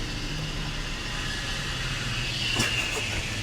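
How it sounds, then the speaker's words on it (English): A car backing up outside, heard as a steady low engine rumble under constant background noise, with a brief sharper knock near the end. "No, it's just a car backing up"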